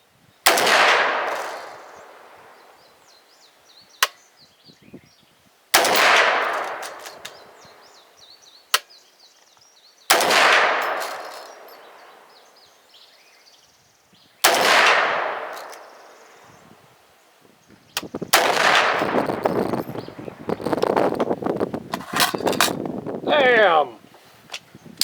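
Five sharp rifle reports from a BCA .450 Bushmaster firing Hornady Black 250gr FTX ammunition at a 100-yard range, each loud crack followed by a decaying echo, spaced several seconds apart; the last shot is followed by a longer, busier stretch of noise.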